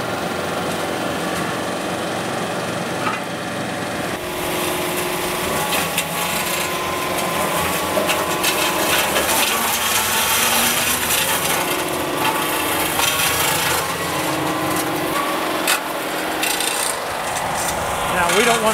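A Deere 4052R compact tractor drives a brush mulcher that grinds up trees, making a loud, continuous grinding and crunching of wood over a steady engine drone for the whole stretch, with no one talking.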